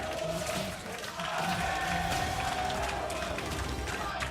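A roaring esports arena crowd in Berlin cheers and chants steadily throughout for a League of Legends World Championship 2019 play-in match, loud and dense with a brief dip near one second.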